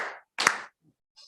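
A few sharp hand claps ring out, close and loud, with brief silences between them and a faint trailing tap at the end.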